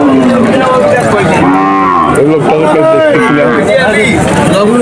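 A cow at a busy cattle market moos loudly up close in long drawn-out calls, over a constant background of crowd chatter and people talking.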